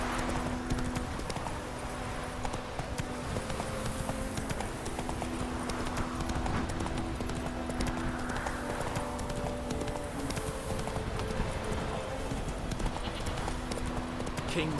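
In The Witcher 3: Wild Hunt on PS5, a horse gallops with rapid, steady clip-clopping hoofbeats throughout, mixed with game sounds and a brief voice in the background.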